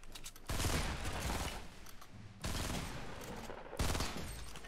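Loud bursts of rapid automatic gunfire in Fortnite, three sustained volleys close together with brief gaps between them.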